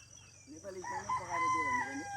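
A local rooster crows once in a coconut garden on an island, a clear, fairly close drawn-out call with wavering pitch rising and then trailing off.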